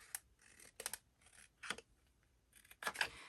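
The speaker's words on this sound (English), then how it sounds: "you're literally just going to take your scissors and cut it" Scissors cut paper for a photo mat, giving several crisp, close snips separated by brief pauses in an otherwise quiet room.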